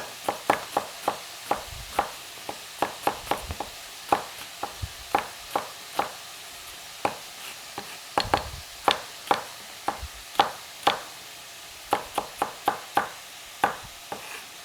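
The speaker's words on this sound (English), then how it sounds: "The onion for that can be kind of cut coarse." A knife chops onion coarsely on a cutting board for pepperpot soup, a steady run of sharp, close taps in uneven clusters with brief pauses, no talking.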